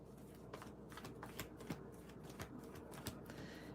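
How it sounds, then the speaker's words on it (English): Three tarot card decks are shuffled in quick succession, their soft riffling and flicking cards sounding as a steady series of faint, close clicks. "let me just shuffle the 3 decks"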